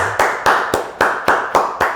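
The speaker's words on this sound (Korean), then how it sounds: "주께 감사와 영광의 박수 올려드리겠습니다." Hands clap in a church service, seven sharp, evenly spaced claps close by, each with a short ringing tail, forming a steady rhythmic beat with no voices.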